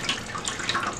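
Water streams and trickles off soaked tree fern panels in a steady, close splashing drain with small drips.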